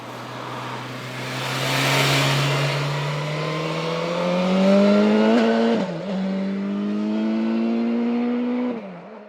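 A BMW S1000 XR motorcycle engine revs steadily upward while riding, its pitch climbing over several seconds before a quick dip at a gear change and a second rising pull, loud and close with no talk.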